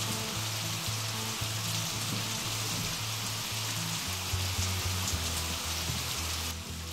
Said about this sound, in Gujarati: ગીરના જંગલ પંથકના ગામોમાં પણ સારો વરસાદ વરસી રહ્યો છે.